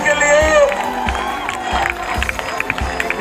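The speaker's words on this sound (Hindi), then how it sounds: "ताली बजाओ रामराज जी के लिए" A crowd at an outdoor political rally in Jakhania, Ghazipur claps and cheers, a dense ripple of applause with sharper scattered claps near the end, heard alongside someone speaking over a loudspeaker.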